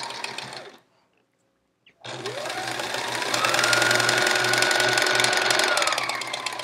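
A sewing machine runs steadily at full speed while stitching a chevron quilt top, a loud continuous whirring drone that stops briefly, then restarts and climbs in pitch, with no voices.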